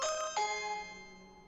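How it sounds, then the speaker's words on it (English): A two-note ding-dong chime from a video doorbell in a TV advertisement, the first tone struck and quickly followed by a second that rings out and decays over about a second, clear and alone. "With a video doorbell, you'll never miss a visitor."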